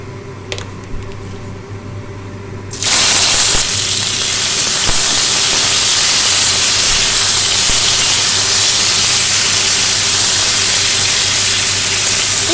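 Jujubes dropped into hot mustard oil with fried white and black mustard seeds for a chutney: a quiet start, then a sudden loud, steady sizzling hiss that carries on strongly to the end, with no talk.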